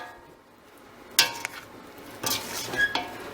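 A ladle scoops from a pot of broth-based soup that has boiled for an hour, giving a few sharp metallic clinks and scrapes against the pot, then a short burst of scraping and clattering near the end, close and fairly quiet.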